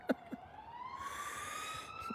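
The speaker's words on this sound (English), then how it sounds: "there's always sirens going past" A siren wails steadily as an emergency vehicle passes at moderate distance, its tone sliding slowly upward and holding for about two seconds after a couple of soft knocks, with no voices over it.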